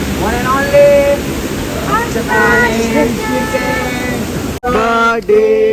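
Steady rushing water from an indoor waterfall feature runs beneath close voices and singing of Happy Birthday, briefly dropping out near the end.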